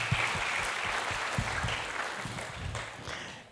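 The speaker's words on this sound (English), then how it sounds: "Can we give him a round of applause, whoever this person is?" A church congregation gives a round of applause, with a broad, steady wash of many hands clapping that holds for several seconds and slowly tapers, heard from inside the room.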